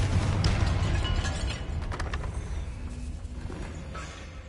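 A Confringo blasting spell explodes in a Harry Potter video game, a deep rumbling boom that swells at the start and then fades into a lingering crackling debris rumble, loud and close.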